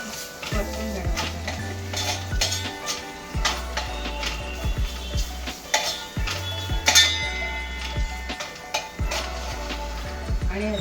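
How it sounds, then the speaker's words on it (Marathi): Ginger-garlic paste is stirred and fried in a pan for a crab curry, giving a steady close sizzle with scraping stirs and light utensil taps throughout. "छान परतून घेणार."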